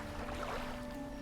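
A fishing boat's engine in the video game DREDGE gives a steady, continuous low drone with a faint tonal hum, alone and unbroken with no talking.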